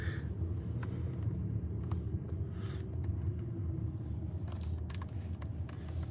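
A car being driven, heard from inside as a steady low engine and road rumble with a few faint clicks and knocks, continuous and fairly loud, with no talking.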